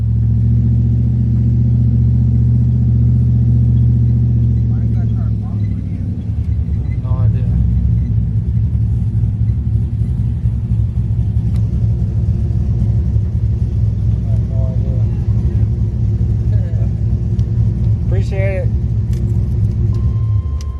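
Chevy Blazer engine holding a steady, loud low rumble throughout, shifting in tone around the midpoint as it pulls, with a person talking over it.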